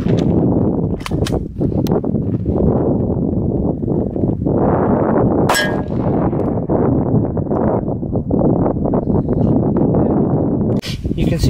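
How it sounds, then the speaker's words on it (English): 9mm rounds fired from a Glock 19X slam into a homemade steel armor plate, sharp gunshot cracks standing out in a dense, loud, continuous wash of noise, with a couple of distinct impacts through the stretch. "this time we're going to step it up to 9mm. We're going to be shooting it out of a Glock"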